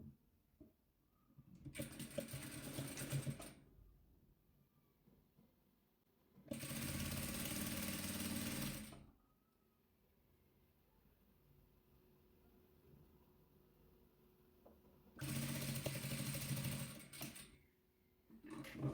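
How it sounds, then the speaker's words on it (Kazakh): A sewing machine stitches patchwork pieces together for a quilt in three separate runs of fast, steady whirring, each lasting a couple of seconds, with quiet pauses between them. "Міне құрағымыздың басын осы екеуін осылай тігіп аламыз."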